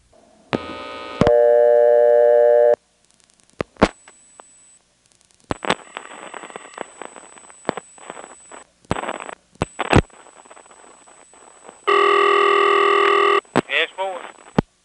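A series of 1977 step-by-step exchange telephone line tones while dialing 611 in Windsor, North Carolina: steady buzzing signals, short clicks and pulses, and brief multi-tone bursts, loud and close, with gaps of near silence between.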